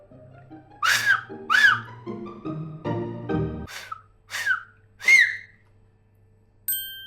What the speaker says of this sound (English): I can whistle like this.